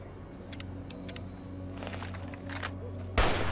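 A single sharp gunshot in Fallout: New Vegas bursts out loudly near the end, after quieter game ambience with scattered faint clicks and rustles.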